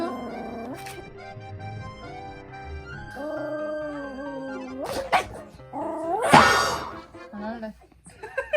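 A small pet dog yips and barks in short bursts at home, mixed in with women chatting and laughing nearby, the barks loudest toward the end.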